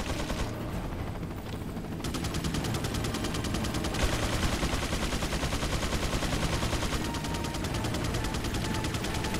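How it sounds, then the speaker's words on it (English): Sustained automatic gunfire in the video game Resident Evil 4, a loud, dense, rapid stream of shots rattling continuously with no breaks. "He's shooting at the wall."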